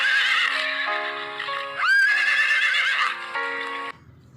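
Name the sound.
horse neighing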